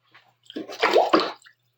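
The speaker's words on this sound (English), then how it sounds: "Rinse that down again." Short splash and gush of water rinsing dirt off old hand files, close and lasting about a second.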